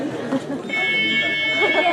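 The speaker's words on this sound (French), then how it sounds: "Il y a tout qui se déclenche. L'alarme d'incendie, l'alarme d'intrusion." Fire alarm sounding at a Christmas party, a steady high-pitched electronic tone cutting in partway through and continuing under loud chatter and voices in the room.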